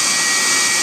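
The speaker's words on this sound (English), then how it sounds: "Wood's burning, and the blower is keeping it going" Steady broadband whoosh of an electric blower running on a L.E.A.F. wood gasifier with wood burning, a loud continuous roar with no breaks over the short stretch.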